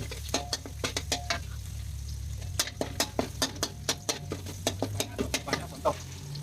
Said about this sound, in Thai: ผัดกระเทียมเขาให้หอมๆหน่อย